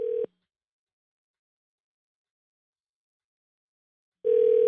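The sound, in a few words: telephone ringing tone during a call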